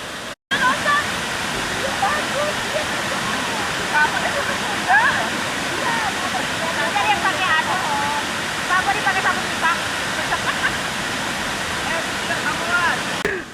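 The Doyam Seriam waterfall in Kabupaten Pasir, Borneo, roars loudly and continuously close by, a dense rushing wash of falling water with voices talking faintly beneath it.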